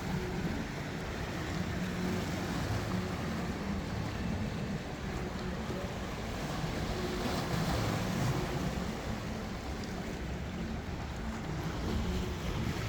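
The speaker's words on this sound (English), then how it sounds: "Listen to the sound of the waves." Mediterranean Sea waves wash in a continuous broad hiss at night in Jaffa, steady and moderately loud, with gentle swells and some wind buffeting.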